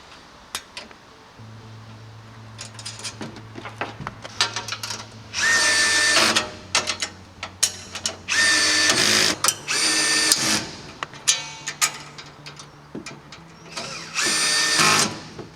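Power drill driving screws into a RolaCase floor mount enclosure, several loud whirring bursts of a few seconds each separated by quieter handling clatter and short tool clicks.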